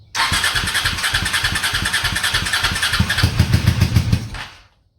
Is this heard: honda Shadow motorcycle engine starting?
yes